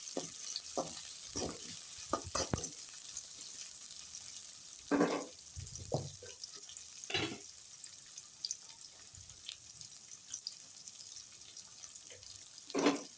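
Onions frying in a pan, a soft background sizzle broken by scattered clinks and scrapes from stirring, quiet and close, with no voices.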